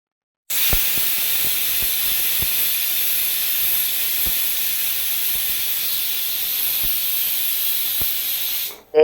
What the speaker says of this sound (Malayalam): നമ്മുടെ കുക്കറിൽ നിന്ന് വിസിൽ വന്നിട്ടുണ്ട്.